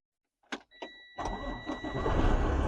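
A truck's engine turns over and catches after a couple of door or cab clicks, then settles into a steady close idle with a faint electrical whine during a pre-trip inspection.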